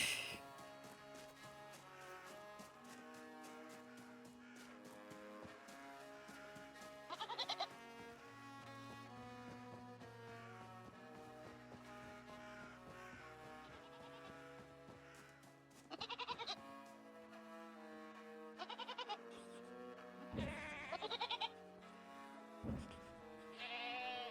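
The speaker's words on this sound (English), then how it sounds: "I'm taking this goat with me." Goat in the video game Reka, bleating again and again in wavering, drawn-out calls, faint and close, with no talk over it.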